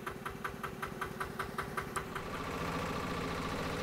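A tractor engine chugs in a steady knocking rhythm while driving over a potato field on a hot day, the beat smoothing into a continuous rumble near the end; fairly quiet and close, no voices.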